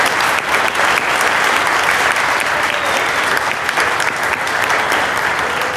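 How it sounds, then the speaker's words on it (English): Loud, sustained applause fills a middle school's 8th grade promotion ceremony, a dense crowd clapping continuously with scattered cheers mixed in, near and steady throughout. "Thank you all for holding your applause, but now let's hear it."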